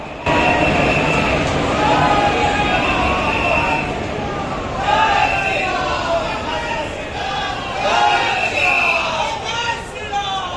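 The Aastha special train rolls into the station with a steady rumble and rail noise, wheels clattering faintly while a crowd murmurs and voices talk nearby.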